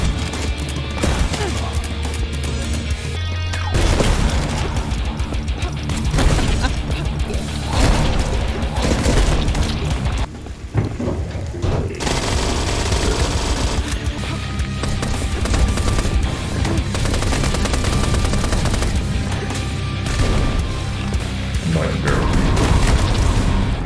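Elemental-attribute weapons fire in the Nightmare Reaper video game: loud, dense volleys of blasts, booms and rapid gunfire with crashing impacts, continuous over a pounding game soundtrack, with one brief lull midway.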